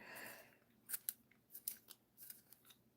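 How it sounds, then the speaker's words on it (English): Close, quiet crisp clicks and scrapes from a Prismacolor handheld sharpener shaving a colored pencil, a string of short irregular grinding strokes. "this is actually a Prismacolor sharpener"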